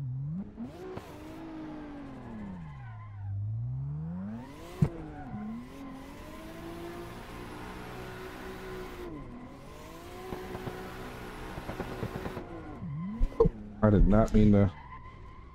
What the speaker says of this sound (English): I shouldn't have yanked the e-brake right there